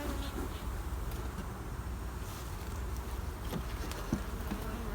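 Bees from a hive being worked after normal smoking, a steady close buzzing drone that runs throughout with a few brief louder passes near the microphone.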